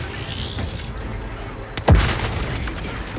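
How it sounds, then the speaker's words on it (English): A grenade explodes in The Outer Worlds 2, a single sharp, loud blast with a deep low rumble that rolls off over the following second, set against steady game ambience. "Oh, that's a grenade. That's another grenade."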